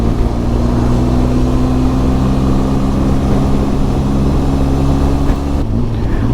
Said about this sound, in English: The little Benelli in its 47 horsepower is doing brilliantly here.